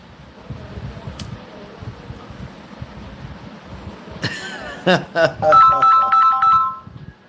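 A phone ringtone breaks in loudly over a quiet room with faint murmuring, a bright repeating electronic melody playing for a few seconds.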